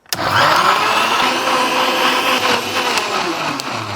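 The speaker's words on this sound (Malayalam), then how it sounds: "മിക്സിൻ്റെ ജാറൊക്കെ അടച്ചിട്ടുണ്ടേ നന്നായിട്ട് ഇങ്ങോട്ട് അടിച്ചെടുക്കാം" A mixer grinder whirs loudly at full speed, blending tender coconut in a closed jar: one steady, close, continuous roar from start to finish.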